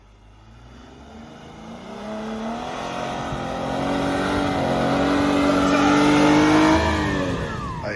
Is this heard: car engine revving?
yes